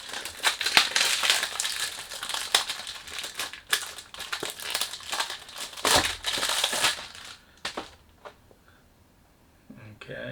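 Al Haramain perfume oil box being unboxed, its packaging crinkling and crackling close up in a busy run of rustles for about eight seconds, then quieting to faint handling near the end.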